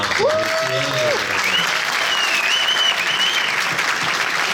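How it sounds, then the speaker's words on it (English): An audience at a real estate awards event gives sustained, loud applause for Selman, with a voice speaking over the clapping at the start. "how about a great round of applause to Selman"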